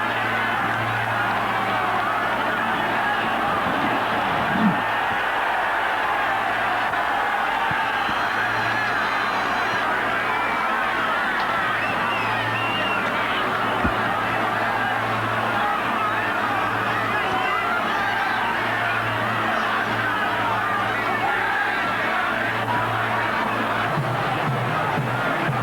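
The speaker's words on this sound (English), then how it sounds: "to the boos of the crowd" Stadium crowd at a 1999 Leeds versus Wigan rugby league match, a broad, steady roar of booing and babble that holds throughout, with scattered whoops rising out of it.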